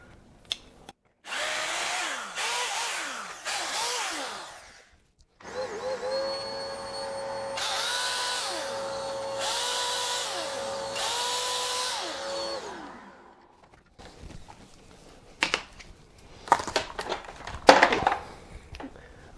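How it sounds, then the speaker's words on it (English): A power drill turned down to low speed lifts dust out of a freshly drilled hole while a garage ground anchor is being fitted. Several whirring bursts start and stop with pitch sweeps, and clatter and handling noises follow at the end. "I'm just going to use the drill to lift it out"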